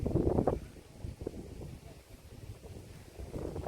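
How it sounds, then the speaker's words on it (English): Wind gusts across an open-water shoreline at a botanical garden, low rumbling buffets against the microphone that swell and fade, loudest at the start and end. "Since I'm next to the open water, it's getting windy"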